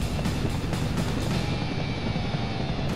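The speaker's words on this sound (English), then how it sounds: "Why am I hearing helicopter blades?" Helicopter blade thrum from a mid-1990s video game, a continuous low rotor drone with faint rhythmic pulses, steady and fairly loud throughout.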